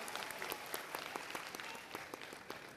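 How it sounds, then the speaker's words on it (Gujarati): Audience clapping in a hall, a moderate patter of many hands with sharp individual claps standing out, steady throughout without voices. "જોરદાર તાળીઓ વગાડો"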